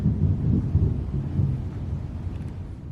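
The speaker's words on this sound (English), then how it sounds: "If you just heard that thunder" Thunder rolling as a rainstorm approaches outdoors, a deep, loud rumble that swells and lingers for several seconds with wind noise on the microphone, no voices.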